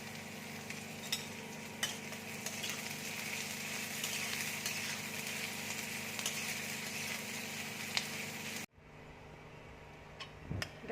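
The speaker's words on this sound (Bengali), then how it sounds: "এবার দেখো পেঁয়াজটা দিয়ে দিচ্ছি। পেঁয়াজটা আমি লাল করে ভেজে নেব।" Onions sizzle in hot oil with bay leaf in a pan for Kolhapuri egg curry, a steady close frying hiss with faint ticks and stirring scrapes that drops sharply near the end, leaving a quieter sizzle.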